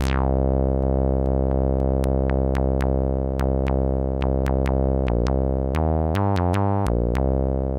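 A droning synthesizer bass with a repeated plucky note on top shaped by a longer filter envelope decay, each hit opening bright then decaying slowly, steady rhythmic pattern.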